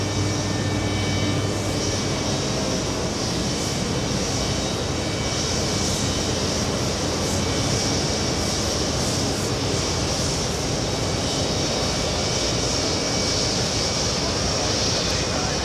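An Etihad airliner passes below at JFK airport, a broad, steady jet roar filling the whole stretch at constant loudness, with a high hiss riding on top.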